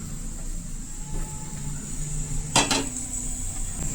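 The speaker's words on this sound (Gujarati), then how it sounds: "આ કઢાઈને ગેસ ઉપર મૂકીશું।" A kadai wok set down on a gas stove gives one sharp metallic clank with a short ringing tail, close by, against steady kitchen hum.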